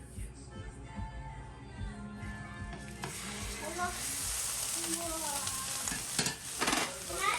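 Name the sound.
ground beef frying in olive oil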